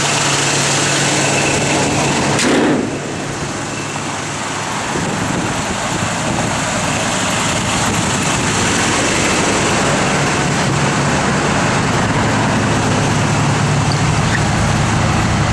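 A 1970 Chevrolet C10 pickup truck's engine drones steadily while driving on the road, a loud, continuous hum with road and wind noise. A brief thump comes early on, and nobody speaks.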